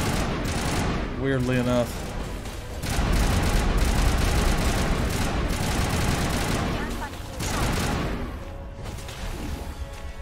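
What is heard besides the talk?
gunfire in the video game Mass Effect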